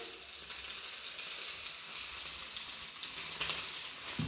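Salsa hitting a hot pan of chicken, a soft continuous sizzle and crackle at moderate distance, with a few sharper spatters near the end.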